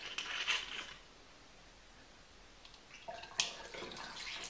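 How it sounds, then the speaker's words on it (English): Vodka poured through a funnel into a bottle for homemade chocolate liquor, heard as two short splashing, gurgling bursts of liquid separated by a quiet pause. "I could actually pour a bit more vodka in there"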